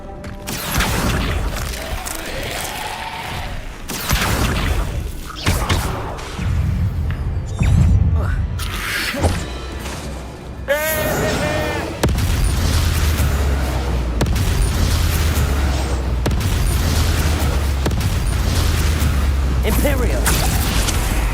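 Confringo explosive spell in Hogwarts Legacy, giving booming blasts and bursts amid other spell effects and game sounds. A voice speaks at points through the fight.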